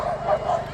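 Excited dogs at a canicross race start giving a quick burst of yips and barks, two or three sharp calls close by amid outdoor crowd noise.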